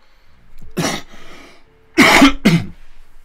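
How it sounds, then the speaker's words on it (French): A person coughs several times close up: one harsh cough, then a pause, then two sharp coughs in quick succession, with no talking. "aujourd'hui je tousse beaucoup"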